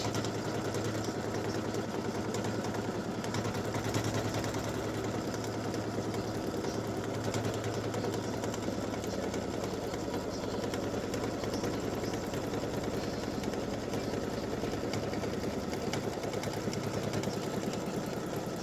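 An embroidery machine stitches a triple stitch on an in-the-hoop mug rug side panel, a steady, continuous whirring drone with a fast mechanical needle rhythm that holds at an even level throughout.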